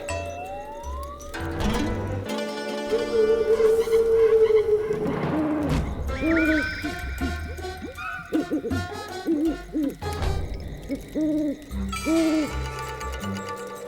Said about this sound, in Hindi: अचानक उल्लू बोलने लगे।